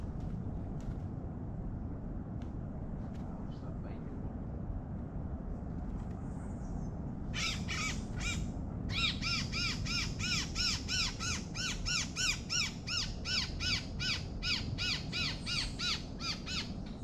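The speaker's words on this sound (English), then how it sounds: "the bird is thinking a predator is coming to eat it, so it's okay if it screams" A captured wild bird being banded screams in harsh, rapid repeated squawks that start partway through and continue in a fast rhythmic series, close and loud over a low background rumble.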